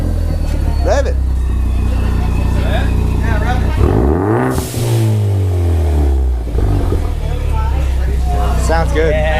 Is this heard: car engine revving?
yes